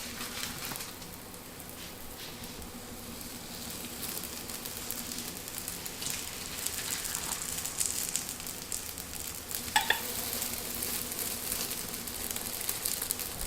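Soft bread fries in an oiled baking pan, giving a steady, fairly quiet sizzle with faint crackles throughout and a few small pops, and no voices.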